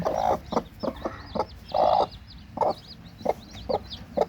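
Native village hens cluck close by in short repeated bursts, with faint high peeping from newly hatched chicks underneath.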